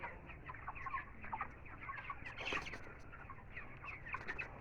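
Twenty-seven-day-old broiler chickens in a poultry shed cluck and chirp in a busy overlapping chorus, fairly faint and steady, with no speech.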